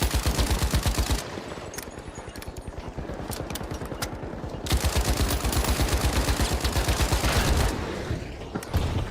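Video game gunfire in a multiplayer shooter match: dense, rapid automatic bursts rattling almost continuously, loud and close, with a short lull before the firing resumes even heavier.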